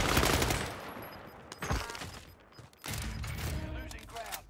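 Assault rifle fire in the Warzone video game, bursts of shots crackling in the mix with game ambience and a pause midway, with a voice talking over part of it.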